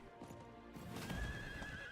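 A horse in the Diablo IV video game whinnies over the clatter of its hooves, a quick burst of neighing layered on clip-clopping steps, fairly quiet and with no talking.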